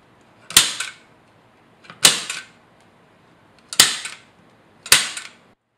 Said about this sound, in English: we're just going to staple these right on here